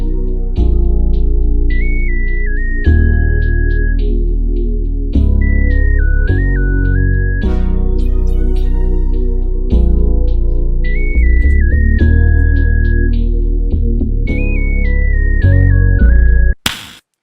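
R&B trap beat with electric piano chords layered with a pad, pluck and lead synth melodies, bass and percussion loop, loud and full with repeating melodic phrases, ending in a sharp burst.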